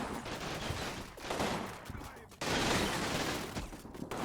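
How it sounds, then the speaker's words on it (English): Bursts of infantry rifle and machine-gun fire ring out through the windows of a hospital in a Combat Mission WWII battle at Carentan, crackling in ragged volleys with a short lull before a louder burst. "my infantry continues to shoot them through the windows"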